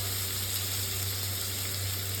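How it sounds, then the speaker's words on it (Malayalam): Half an onion sautéing in a pan for a Chicken Tuscan dish, a steady, close hiss of sizzling oil with a low constant hum beneath, no voices. "ഇനി നമുക്കതൊന്ന് വഴറ്റിയിടുക."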